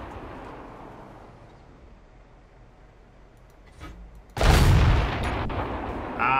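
A tank cannon in World of Tanks fires one loud, close boom that cuts off a quieter rumbling stretch and is followed by a sustained roaring tail.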